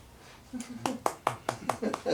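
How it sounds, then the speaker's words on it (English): Several sharp handclaps in a slow, steady rhythm, close by, with a voice murmuring underneath. "Applause, applause."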